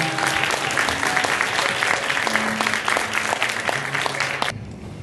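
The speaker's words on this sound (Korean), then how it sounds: "큰 박수 부탁드립니다." Guests at a wedding ceremony in a hotel hall break into loud, sustained applause. Many hands clap together densely for several seconds, then stop abruptly, leaving only faint room sound.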